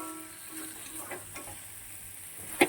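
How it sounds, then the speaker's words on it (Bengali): A roti fries quietly in a pan, a soft low sizzle with faint stirring scrapes and a sharp clink near the end. "এবারে রুটিটা ভাজবো।"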